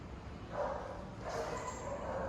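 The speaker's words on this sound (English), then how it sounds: "There's some dogs here." Dogs at an animal shelter in Selangor let out a few short barks and yips at moderate distance, over a steady background murmur of the building.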